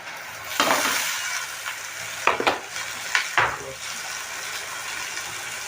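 Shrimp tumble into partly fried onions in a pan, raising a bright sizzle with several sharp scraping stirs over a steady low frying hiss, close by and without talk.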